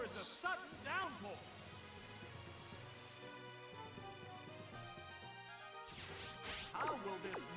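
Rain Dance move from a Pokemon battle video game, a sudden digital downpour hiss with sharp crashing hits and synthetic chiming tones, carried under an ongoing commentator voice.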